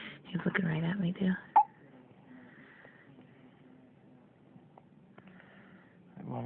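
A baby gives a single sharp hiccup, loud and close, after a stretch of soft adult talk, followed by quiet room sound and more murmured speech.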